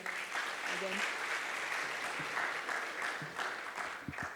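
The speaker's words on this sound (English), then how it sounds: "A round of applause for AFDB as well." Applause from a ceremony audience at an African plenary and awards event rolls on steadily throughout, a dense wash of clapping with some voices mixed in.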